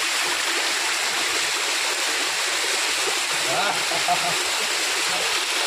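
Lihonjar Lanksun Waterfall pours into its stream, making a loud, continuous broadband rush of falling and flowing water that fills the whole stretch, with a faint burble of voices low beneath it.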